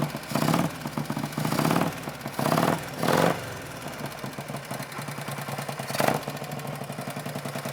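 Harley-Davidson Panhead motorcycle engine with a Mikuni carburetor running after one kick and no throttle, a steady close loping idle marked by three early swells and one later surge before settling back to an even beat, no voices.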